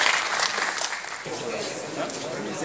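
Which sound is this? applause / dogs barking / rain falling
applause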